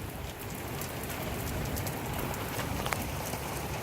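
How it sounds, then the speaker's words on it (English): Heavy rain pours steadily during a thunderstorm, a dense, even hiss of drops drumming on surfaces, close and loud with no voices. "It's raining a lot more heavily."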